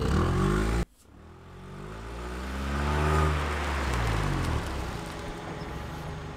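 A taxi car engine in the visual novel game Nekopara Vol. 2 follows a sharp click with a low rumbling drone that swells louder, then gradually eases off.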